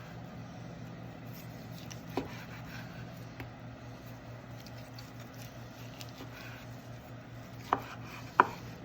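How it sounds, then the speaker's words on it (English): A knife slicing a barbecued medium-rare steak off the bone on a board, a steady low hum underneath with a few sharp knocks of the blade against the board. "We'll start right over here and just start making some nice slices"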